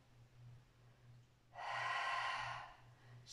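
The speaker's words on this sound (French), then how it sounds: "Prenez des grandes respirations." A single deep, audible breath, drawn in sharply and released during an evening stretching session, comes close and fairly quiet above a faint low hum.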